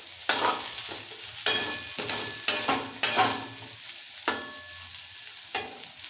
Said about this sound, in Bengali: এখানে আলু ভাজা হয়ে গেছে, আর সাথে আমি এখানে রুটিটাও ভেজে নিচ্ছি।